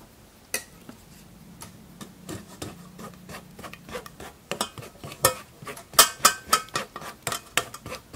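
A ladle scrapes and knocks against a strainer holding blackcurrant pulp as juice drains, giving a series of irregular metallic clinks and scrapes that grow busier and louder toward the end, close by.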